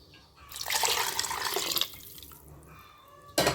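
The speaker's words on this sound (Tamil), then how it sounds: "இப்போ இதில் தேவையான அளவு தண்ணி சேர்த்துக்குவோம்" Water poured into a chicken biryani pot, a gurgling splashing stream lasting just over a second, then softer trickles and drips before a brief louder splash at the end.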